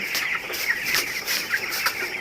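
Chickens on a poultry farm cluck in short repeated calls, several bursts close by in quick succession with no talking.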